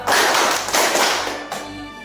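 Children in a classroom clap together four times in a counting exercise, a few loud, close group claps spaced unevenly, the bursts slightly blurred and decaying into room noise.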